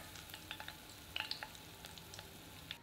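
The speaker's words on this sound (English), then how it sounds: "Add the white part of the scallions. Cook until lightly browned, 5 minutes." White parts of scallions frying in oil in a pan, a steady soft sizzle with small crackles and pops scattered throughout, fairly quiet and close, no talking.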